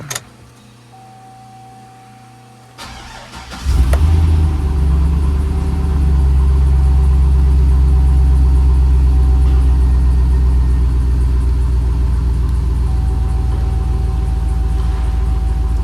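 A 2005 Chevy SSR with a 6.0 LS2 V8 cranks and catches after a few quiet seconds with a brief electronic tone, then settles into a loud, steady, deep idle that stays close and continuous.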